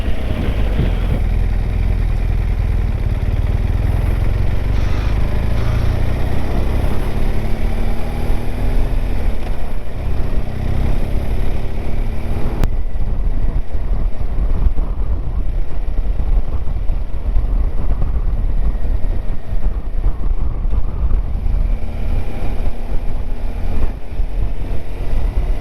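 A Honda NC750X DCT motorcycle engine on a test ride, a steady loud drone with rising and falling gear-change sweeps, heavily buffeted by wind noise throughout, with a brief voice now and then.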